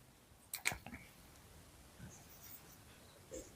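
Chalk or marker writing on a board while a math problem is worked out: a short cluster of quick scratchy strokes near the start, then faint sparse taps and strokes in a quiet room.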